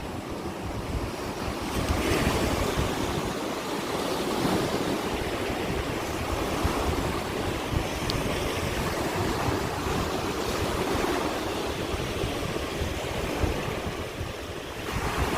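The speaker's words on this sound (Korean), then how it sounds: "맞바리 북동풍이 불고 있어가지고" A strong northeast headwind roars steadily at a river mouth by the sea, buffeting the microphone with constant gusty rumble alongside the wash of surf, with no voices.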